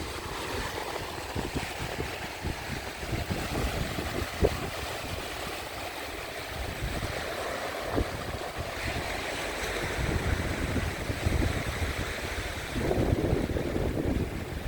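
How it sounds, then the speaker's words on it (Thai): Waves washing onto the beach at Chao Lao beach in the evening, a continuous rolling surf with surges and breaking swells, mixed with wind buffeting the microphone. "คลื่นซัดฝั่งนะครับทุกคน"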